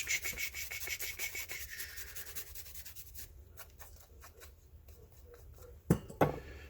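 Rough skin being scraped off a piece of ginger by hand in a kitchen: quiet, close, rapid rasping strokes in a steady run, then a pause and two sharper knocks near the end.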